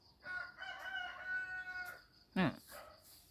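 A rooster crows once in a drawn-out call, faint and some distance off, in a quiet early-morning household, followed by a short sharp noise nearby.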